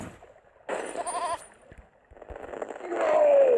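A goat bleats in a glitch-filled video game, a short wavering cry rising over game sounds and talk, with a second fainter bleat near the end.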